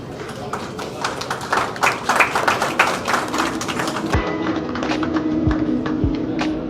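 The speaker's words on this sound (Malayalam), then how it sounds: "ഒരു നല്ല കൈയടി." Audience at a family film event clapping: a burst of dense, fairly loud hand claps that thins out into scattered claps and low thuds toward the end.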